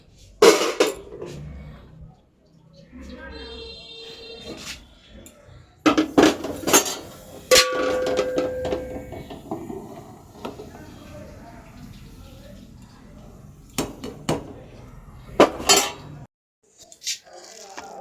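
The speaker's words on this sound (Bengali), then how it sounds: "আগে আমি এই কড়াইটা মেজে নিই" A metal kadai is scrubbed while dishes are washed, with bursts of scraping and loud clanks and clatters of metal cookware between quieter pauses, and a voice heard at times.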